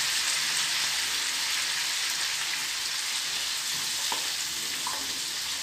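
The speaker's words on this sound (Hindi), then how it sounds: "इसे हमें 1 से 2 मिनट भून के बिल्कुल ठंडा कर लेना है।" Chopped tomatoes with turmeric and masala fry in a pan, giving a steady, bright sizzle throughout with a couple of faint clicks near the end, and no voices.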